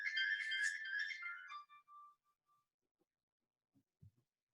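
A mobile phone ringtone plays loud and bright for about a second and a half, then trails off into a few fading notes, followed by quiet and a couple of faint low knocks.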